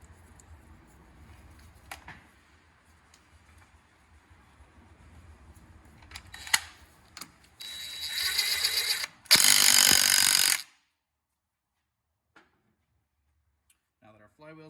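A ratchet wrench tightens the flywheel bolt on a Honda Hawk 250 engine in two short, loud clicking bursts after quiet workshop handling. Near silence follows with a few faint taps.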